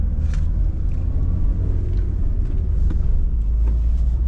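A manual stick-shift car's engine rumbles low and steady from inside the cabin as it pulls through gear changes, with faint clunks of shifting.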